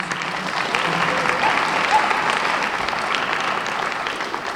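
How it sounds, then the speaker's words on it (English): An audience at an awards ceremony breaks into loud, steady applause that fills the room, dense clapping continuing evenly throughout. "Give her a round of applause, please."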